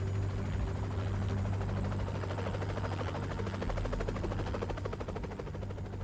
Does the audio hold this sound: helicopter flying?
yes